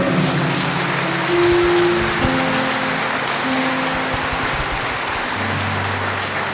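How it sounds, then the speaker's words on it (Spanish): A church congregation applauds during a Sunday service, a continuous rain-like patter of clapping with sustained organ or keyboard tones underneath. "Dele aplausos al Señor"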